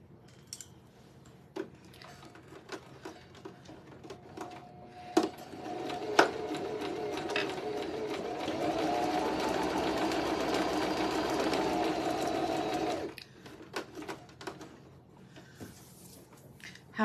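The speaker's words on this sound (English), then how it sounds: "So we got the machine turned on, and we will get our Santa sewed together here." A sewing machine stitches fabric pieces for a primitive triangle Santa Christmas craft, starting with scattered clicks and short bursts, then running in a steady close whirring hum for about four seconds before stopping, followed by more handling clicks.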